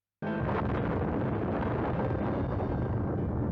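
A sudden explosion in a Doctor Who episode bursts in abruptly and gives way to a dense, sustained roaring rumble of a cliffside landslide, loud and unbroken to the end.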